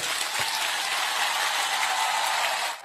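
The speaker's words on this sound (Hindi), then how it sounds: "सबसे बड़ा ताली आपको होना चाहिए।" Audience applause at a public speech, a dense, steady burst of clapping lasting a few seconds before tapering off, with no talking over it.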